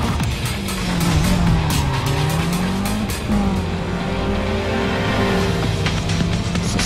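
Racing cars in a Need for Speed Undercover sprint race, a loud continuous engine roar with rising and falling revs as gears shift, plus tire squeal, with no talking.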